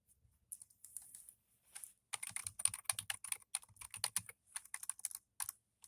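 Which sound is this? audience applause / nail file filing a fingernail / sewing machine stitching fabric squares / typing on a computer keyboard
typing on a computer keyboard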